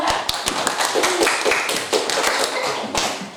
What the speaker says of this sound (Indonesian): Baik, tepuk tangan apa pada Ibnu?